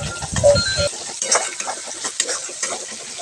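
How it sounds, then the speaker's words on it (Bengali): Spice masala for a Bengali potol posto recipe, with sugar and salt, is stir-fried in a pan without water. The spoon scrapes and stirs with a soft sizzle close by, and a low hum is audible briefly at the start. "তো কোনো জল ছাড়াই মশলাটাকে কষে যাচ্ছি ভালো করে।"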